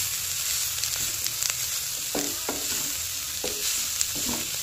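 Drumstick flowers fry in a pan with fried potatoes while a spatula scrapes and stirs them in a few distinct strokes over a steady, close sizzle.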